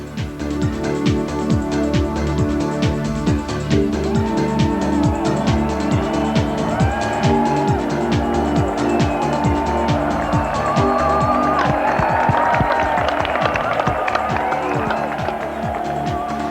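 A car laps a circuit while running with no engine oil; engines rise and fall steadily, tires squeal now and then amid a constant motor drone as cars roar past one after another.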